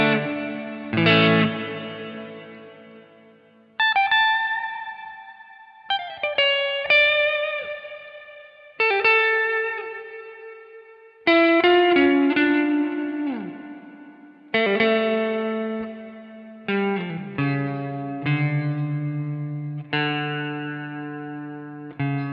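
Plucked instrument notes and chords ring out through a TC Electronic Hall of Fame reverb pedal, with a heavy wash of reverb and echo, each phrase trailing into a long, shimmering decay. No talking.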